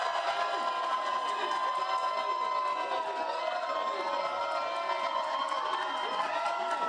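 An election night crowd at an Arizona primary campaign event cheers and shouts continuously, a loud, dense roar of many voices with whoops rising throughout.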